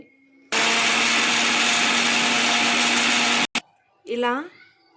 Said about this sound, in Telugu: మనం ముందుగా ఫ్రై చేసుకున్న రవ్వని మిక్సీ గిన్నెలోకి అయితే వేసుకొని ఒక్కసారి జస్ట్ అలా తిప్పి వదిలేసేయండి